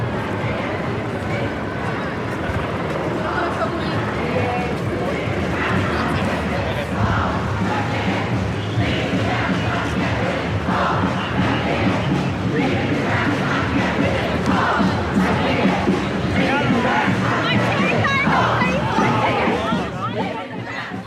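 A dense crowd of climate protesters fills a street protest with continuous shouting and chatter, steady and loud throughout, with individual voices rising out of the roar.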